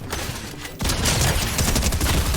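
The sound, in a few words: shotgun firing in the video game Fortnite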